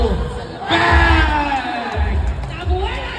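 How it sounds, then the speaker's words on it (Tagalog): A crowd at a basketball game cheers and whoops in loud swells, with a commentator talking over it. "We can hear the crowd cheering here."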